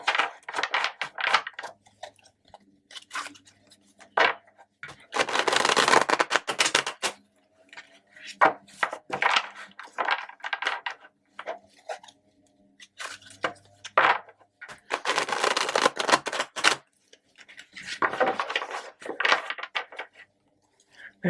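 Crisp rapid bursts of riffling card shuffles, several in a row with short pauses between, fairly close and clear, with small taps and handling noises in the gaps.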